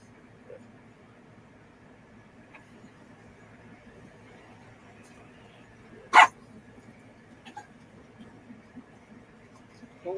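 A dog gives one short, sharp bark partway through, standing out from a quiet room background with no talking.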